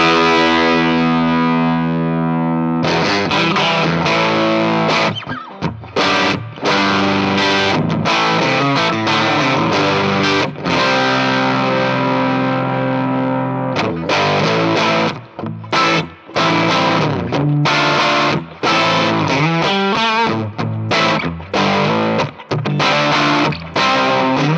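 Electric guitar played through a Mixwave Benson amp plugin with the volume cranked, loud and continuous: sustained overdriven chords and riffs with wide reverb, broken by brief stops and choppy rhythmic gaps.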